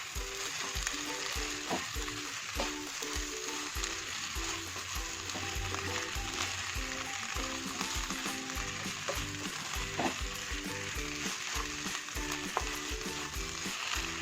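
Taro (chembu) thoran fries in a pan and is stirred, giving a continuous close sizzle broken by soft scrapes and taps from the spoon. No one speaks.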